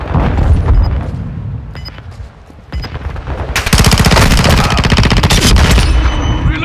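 Rapid bursts of automatic gunfire in a video game, loud and dense, starting with scattered shots and building into a long sustained volley of rapid fire.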